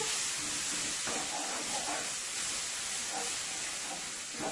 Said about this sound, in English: You're going to let this curry mixture cook into your oil here for about 3 to 4 minutes